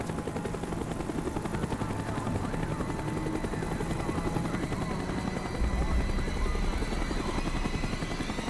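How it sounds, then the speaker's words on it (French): A helicopter drones steadily overhead in a game setting, its rotor thrum loud and continuous throughout, swelling slightly near the end, with faint scattered background noises beneath. "L'hélico revient par ici."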